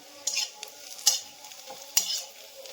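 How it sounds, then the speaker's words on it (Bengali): Onions are stirred while they fry in a pan for a rohu fish head biryani. Three sharp scraping strokes sound against a low, steady sizzle, close and moderately quiet, with no one talking. "দেখো তো পেঁয়াজটা ভাজা হয়েছে কিনা"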